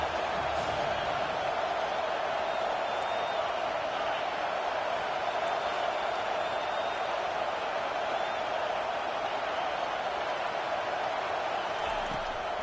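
A stadium crowd in College Football 25 roars steadily on a third-down defensive play, a dense, sustained wall of cheering with no break, heard fairly loud and alone.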